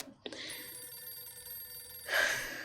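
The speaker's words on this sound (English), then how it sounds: "Why do I keep hearing the phone ringing?" A telephone rings repeatedly inside the survival game 60 Seconds!, a steady electronic bell tone running throughout at moderate level and swelling louder near the end, with no talking over it.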